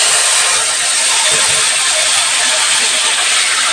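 Ground spice paste of onion and chilli with turmeric sizzles in hot oil over medium heat for a pabda fish curry, a steady, loud, dense frying hiss that runs unbroken from start to finish.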